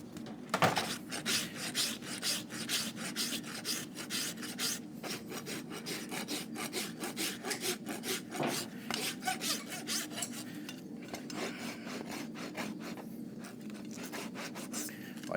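Farrier rasping the inside of a horse's hoof, repeated rhythmic rough scraping strokes in fast succession, close and steady throughout, with no talking.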